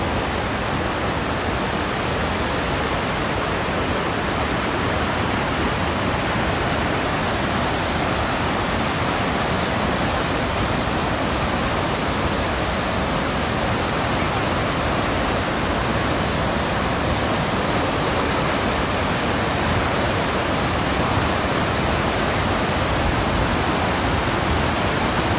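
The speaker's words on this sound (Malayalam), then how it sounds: "നല്ല ഫോഴ്സിലാണ് കേട്ടോ വെള്ളം വരുന്നത്." Rhine Falls in Switzerland, a large waterfall, roars as a loud, continuous broadband rush of forceful water, heard close and unbroken throughout with no talk.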